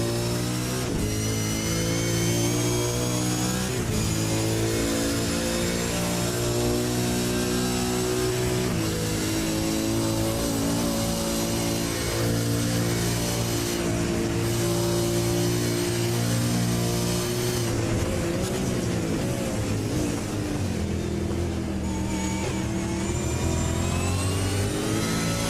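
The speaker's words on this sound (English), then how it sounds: "if you love the sound of iRacing, then crank it up right now with the short sounds of the game" Supercar racing engines in iRacing at Bathurst during a Supercars Pro eSeries esports round, a loud continuous high-revving drone with gear changes and rising and falling pitch as cars pass, with no talk.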